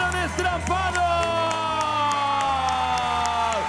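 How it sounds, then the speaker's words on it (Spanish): A crowd at a Moscow circus act cheers and whoops, with loud excited voices and shouts that rise and fall over a steady crowd roar. Any clapping is faint. "¡Aplausos!"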